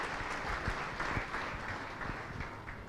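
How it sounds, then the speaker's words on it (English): Steady applause fills the hall at a mental health summit, many hands clapping at once in a continuous, even wash of sound at moderate distance. "can we have another round of applause for Priscilla?"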